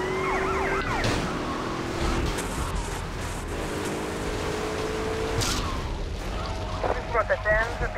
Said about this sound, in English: Two ambulances are at 20 right now.